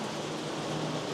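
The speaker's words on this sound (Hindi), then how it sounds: "इतनी तेज़ बारिश स्टार्ट हुई है" Dense, steady hiss of heavy rain pouring down at Ba Na Hills, Vietnam, a constant wash of drops with no pauses or voices.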